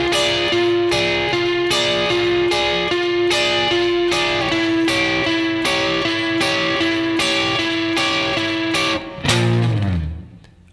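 Short, clipped distorted electric guitar power chords ring out in a steady repeated rhythm from an intro, ending with a longer sustained chord that fades.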